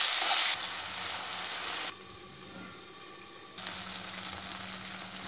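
Chopped tomatoes and salt sizzle softly in a hot pan for a brinjal chutney, giving a steady, fairly quiet frying hiss interrupted by abrupt cuts.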